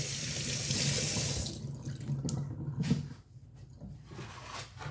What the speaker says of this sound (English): I'm going to go ahead and cut those up, slice them up, rinse them, wash them off